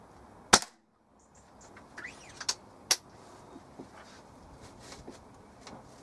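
A Weihrauch HW97 spring air rifle with a replaced spring fires one sharp crack, followed by quieter clicks and mechanical sounds and another couple of brief snaps, outdoors with faint background noise.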